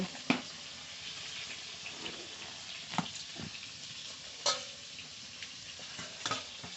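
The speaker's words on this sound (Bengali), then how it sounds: "মাছ খুব ভালো করে ভেজে নেব" Lata fish frying in a pan, a steady crackling sizzle running throughout, broken by occasional louder clicks and spatters, close up with no voices.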